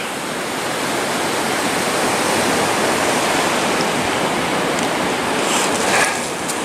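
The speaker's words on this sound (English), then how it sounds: "You get a close-up of the waves crashing against the edge." Heavy ocean waves crash against the shore at Gold Beach, Oregon, making a loud, continuous roaring wash of surf that swells slightly near the end, with no voices.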